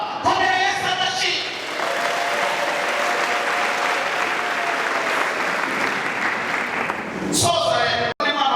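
A church congregation breaks into loud, sustained applause that lasts about seven seconds before tapering off, with a few voices rising near the end.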